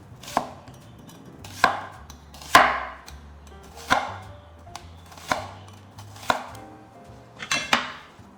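Knife cutting onions into wedges on a board: about eight sharp, evenly spaced chops, close and distinct, each followed by a short knock, with nothing else in the background.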